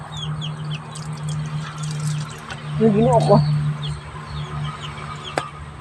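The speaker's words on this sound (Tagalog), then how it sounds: "Inis kasi itong mga manok ko eh." A person's own backyard chickens cluck briefly nearby in a short burst, under and between a person talking close by.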